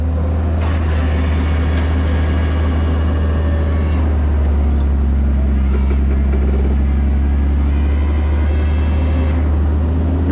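A wrecker tow truck pulls a flooded vehicle during a Kerr County, Texas flood, with a loud, steady diesel engine drone and rumble running throughout and faint mechanical rattles on top.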